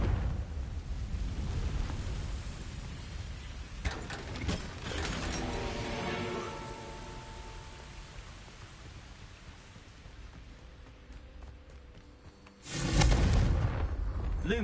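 Confringo spell blasts in Hogwarts Legacy erupt as booming, crackling explosions, one rumbling burst early that fades slowly, then a second loud blast near the end.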